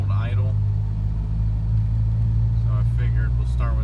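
A 2G Mitsubishi Eclipse DSM 420A engine idling with the air conditioning on after an Idle Air Control valve cleaning, a steady low rumbling hum holding even throughout, with brief voice bits above it.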